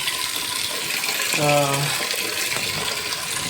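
Lukewarm water runs from a tap in a constant rushing stream for a sitz bath, and a brief voice sounds partway through.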